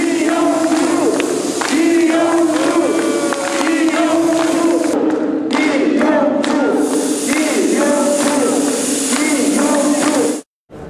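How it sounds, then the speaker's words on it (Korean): An election campaign camp erupts in loud, sustained cheering and shouting at a victory, a packed crowd roaring close by for about ten seconds before cutting off abruptly. "당선이 확정되는 순간 각 선거 캠프에서는 일제히 환호성이 터졌습니다"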